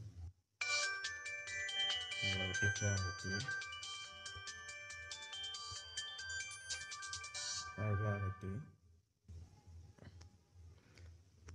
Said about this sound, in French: il peut faire sonner le téléphone